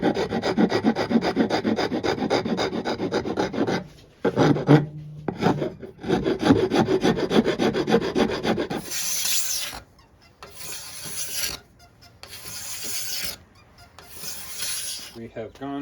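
Wooden bow tips on a tri-laminate bow being filed and rounded by hand, steady close rasping strokes in long bursts that pause briefly, then shorter separated passes toward the end.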